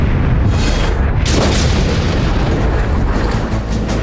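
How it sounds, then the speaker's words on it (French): Cross-Channel coastal artillery guns fire in sustained, incessant shelling: a loud, close boom lands after a brief lull, then a dense rumble of further heavy reports and echoes rolls on without pause. "les canons transmanche entrent en action par des tirs soutenus et incessants"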